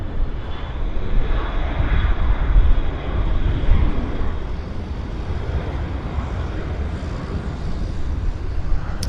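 An American Airlines jet takes off at Vancouver Airport, a broad, steady engine roar rumbling continuously at moderate distance with slight swells in loudness, no voices.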